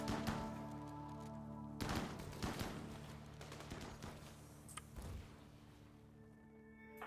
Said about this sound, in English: Okay, start shooting.